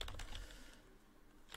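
Keys tapped on a computer keyboard while code is typed out, a quick cluster of soft clicks at the start, then quieter sparse taps and a final burst of keystrokes.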